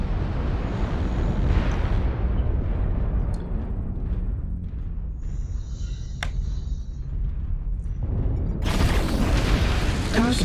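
Artillery strike explosions in the mech combat game MechWarrior Online, heavy booming rumble rolling through most of the stretch, with a sudden louder burst of blast noise near the end.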